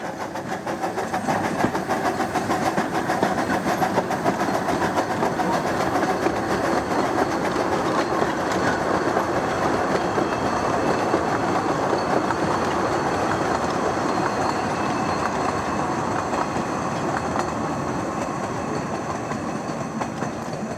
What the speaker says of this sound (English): Number 19, a Hudswell Clark built in 1914, steams past heading towards the balloon loop